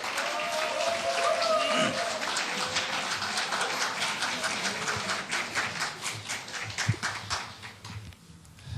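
A crowd at a Jeju election campaign rally claps in a sustained burst of applause welcoming a candidate that gradually thins out, with a few scattered claps and some voices near the end.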